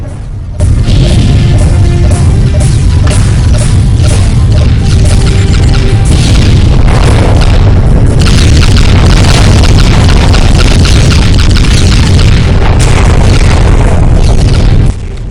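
Heavy missile explosions from Tsunami warheads slam into a capital ship in the Freespace space-combat game, a loud continuous barrage of booming blasts and crashing impacts filling the whole stretch with no talk.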